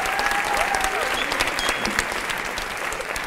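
An audience at a school Christmas concert applauds students with continuous, fairly soft clapping from a mid-sized crowd in a hall, steady throughout the short stretch.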